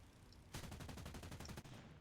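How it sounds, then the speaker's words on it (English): Rapid automatic aircraft cannon fire in a War Thunder game, from a Ju 87 D-5, bursts out after a short quiet moment, a fast, even string of loud, punchy shots lasting about a second. "And use the cannons to brake."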